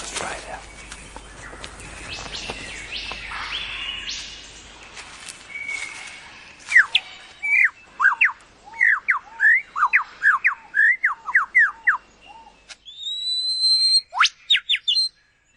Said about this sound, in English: this bird must be one of them. The superb Lyre Bird of Southern Australia.